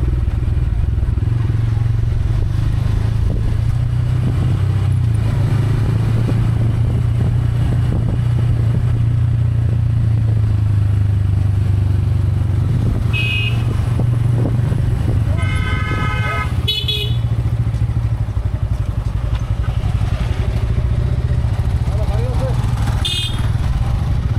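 A motorbike rides along a road through a tea garden on the way to Madhabpur Lake in Sreemangal, Moulvibazar, its steady low engine drone running throughout, with a couple of short horn toots and a brief clatter partway through.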